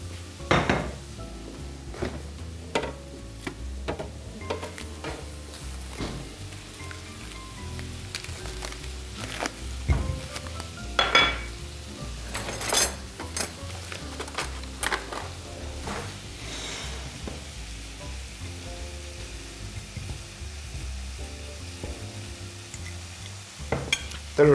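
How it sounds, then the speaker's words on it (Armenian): Food sizzles steadily in a pan at home while a pie filling is being prepared, with frequent clinks of a utensil against dishes and occasional stirring scrapes, fairly close and with no talking. "Թողնենք տապակվեն"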